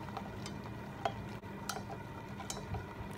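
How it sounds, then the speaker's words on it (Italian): A spoon stirs a custard of milk, eggs, flour and sugar in a pot, making soft continuous scraping with occasional light metallic taps, quiet and close. "Io continuo a mescolare perché dovesse iniziare a prendersi dal basso, avrei dei grumi subito dall'inizio"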